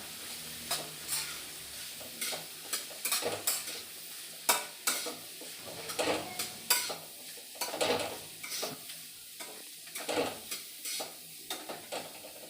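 Food frying in a home kitchen pan, with a low background sizzle broken by frequent clattering stirs and scrapes of a utensil against metal, irregular and close.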